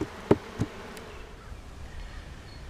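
Honeybees hum around an open hive while it is being combined with another, a soft steady buzz following a few sharp knocks of equipment at the start.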